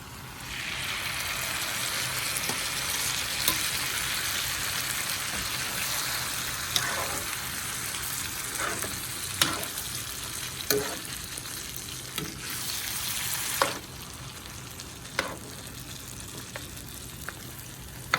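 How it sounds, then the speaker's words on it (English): Pork ribs frying with green salsa and soft onions in a pan, a loud continuous sizzle and bubbling up close, punctuated every couple of seconds by sharp scraping clicks of a utensil stirring. "Let it fry."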